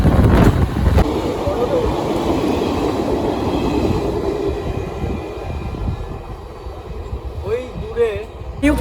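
An Amrit Bharat Express passenger train rumbles along steadily between Malda and Bengaluru, a loud continuous roar and clatter with wind buffeting, close by.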